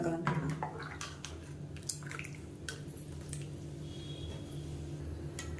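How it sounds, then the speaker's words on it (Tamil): A spoon stirs coconut paste, ground with dried red chilli and cumin, into sautéed onions in a pot for kootanchoru. The close, wet squelching and soft dripping come in irregular bursts with no talk. "இதையும் சேர்த்து நல்லா கலந்துக்கலாம்."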